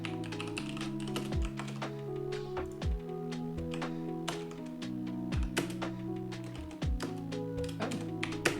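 Computer keyboard typing runs steadily over a bed of piano-like music, the key clicks close and fairly quiet, coming in quick irregular bursts with short pauses, while someone writes a book character.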